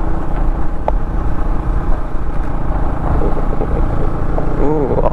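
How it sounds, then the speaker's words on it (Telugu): Steady road traffic with a rumbling engine close by and motorbikes passing, loud and continuous, with occasional horn-like tones near the end. "ఈరోజు కొంచెం ట్రాఫిక్ ఎక్కువ ఉన్నట్టే ఉంది"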